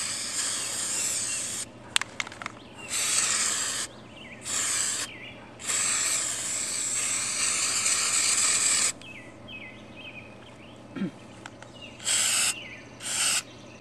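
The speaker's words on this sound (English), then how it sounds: "we're going to completely spray it front and back with Flex Seal" A can of Flex Seal spray sealant hisses in several loud bursts of one to two seconds each, separated by short pauses and faint background noise.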